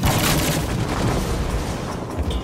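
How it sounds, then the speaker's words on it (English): Bombs dropped by a player ability in the shooter game Firefall burst in a dense, continuous barrage of loud booming explosions that fills the whole moment without pause. "I also have a number 2 ability which lets me drop bombs like so"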